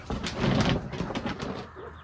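Chickens and roosters on a homestead, giving a short burst of soft clucking and cooing at moderate distance, with no talk over it.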